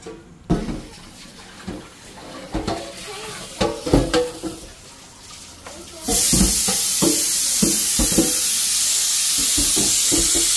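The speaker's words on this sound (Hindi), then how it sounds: "इस पॉट में इसको मैंने सब धो के रखें और उधर बन रही है यखनी और बस इसको मैं धो रही हूँ" Rice is washed in a pot in a home kitchen, first with scattered clattering and sloshing, then a steady hiss of running tap water pouring in close by for the last few seconds.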